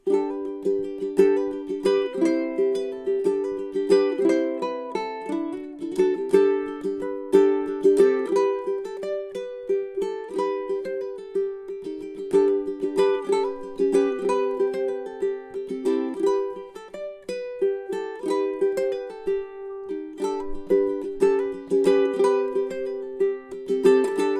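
Bright plucked tenor ukulele strings play a steady melodic piece with strummed chords, continuous and close, with no voices.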